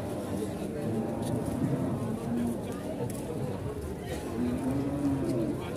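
Pegon feeder cattle moo in two drawn-out, low calls heard over a steady background of murmuring voices and bustle.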